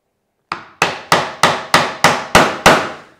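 A wooden mallet strikes a chisel cutting wood to a line, eight sharp, evenly spaced knocks ringing out loud and close with no talk.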